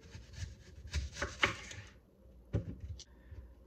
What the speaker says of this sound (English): So I'm going to slice this onion, cut the top off first, and then that beautiful bottom.